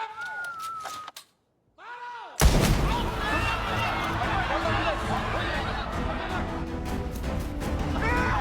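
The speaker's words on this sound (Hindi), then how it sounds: "चलाओ गोली मेरे सीने में" A loud gunshot-like blast bursts in after a brief silence, followed by a dense noisy mix with crowd sounds and overlapping voices.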